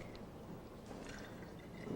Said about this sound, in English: Now what we'll do is rinse, and you can just pour it right in there.